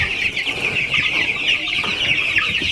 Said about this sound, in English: here is where I start keeping my broilers